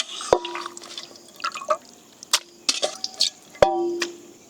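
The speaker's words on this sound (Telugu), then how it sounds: "కడిగిన చికెన్ వేసేసుకుందాం." Washed chicken pieces go into a bowl for a chicken fry. Wet, sloppy slaps and drips come close by, with a few sharp splatters and a ringing clink against the bowl, scattered across a few seconds.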